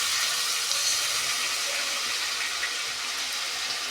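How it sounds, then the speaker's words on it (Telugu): Water for Telangana-style bagara rice pours steadily into a cooking pot, making a loud, even, close gushing that lasts several seconds with no voices over it. "దానికి కొన్ని వాటర్ మాత్రమే వేసుకోవాలి"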